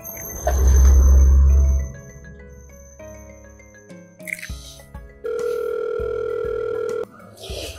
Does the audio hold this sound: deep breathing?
no